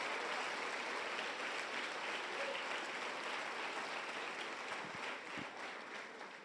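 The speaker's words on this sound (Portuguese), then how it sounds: "Dê para ele mais uma forte salva de palmas" A congregation gives a strong round of applause during an evening church service, dense continuous clapping that holds steady and eases slightly toward the end.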